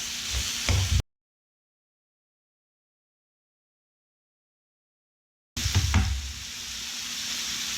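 Teriyaki lamb lollipops sizzle and hiss in a hot pan, a steady close frying crackle broken by a gap of silence, with brief stirring or turning noises as the meat is flipped.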